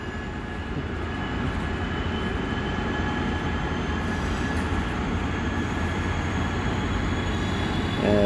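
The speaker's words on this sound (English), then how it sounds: "And Amtrak pulling out." Amtrak passenger train rolling out of a station, a steady loud rumble of rail cars with wheel noise and faint squeal running throughout, with no voices.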